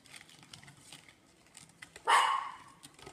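A puppy lets out one sharp bark in the background of a kitchen where French bread dough is being mixed, amid faint soft clatter and quiet handling noises.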